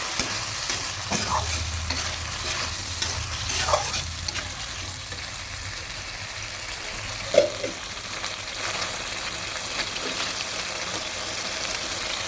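Soaked, washed rice is stirred into a catla fish head curry in a hot pan, a steady scraping and sizzling frying sound close by, with a single brief clank partway through and no voices.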